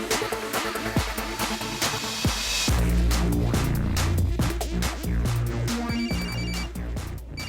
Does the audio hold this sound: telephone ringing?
yes